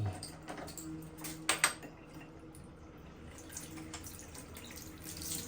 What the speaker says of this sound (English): We're going to run a little bit of water.